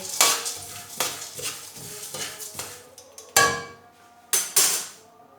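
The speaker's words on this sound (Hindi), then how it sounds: "इस तरीके से हम पकड़ेंगे और इधर से ये देखिए एक बर्तन में निकाल लेंगे" A metal utensil scrapes and clanks against a hot kadhai as fried ingredients for a jaggery and nut winter recipe are scooped out into another pot, giving a series of sharp close clatters and scrapes with short pauses between.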